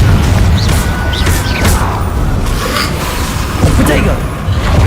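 Confringo fire spell from Hogwarts Legacy, a loud, dense blast of crackling, booming game effects that fills the whole stretch, with a voice mixed in.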